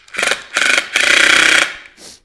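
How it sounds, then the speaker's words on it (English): Tapered screws driven into a scrap wood board with a power driver: three bursts of gritty whirring, the third longest and loudest, followed by a fainter short burst, close and alone without talk. "I'm just putting these screws right in on that line."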